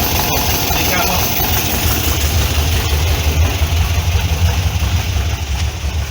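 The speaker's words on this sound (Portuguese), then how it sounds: "Marcha lenta aqui tá boa, tá uns 600 RPM" A VW Fusca engine with dual Solex 32 PDSI carburetors idles at about 600 RPM, a loud, close, steady low rumble with even vibration throughout.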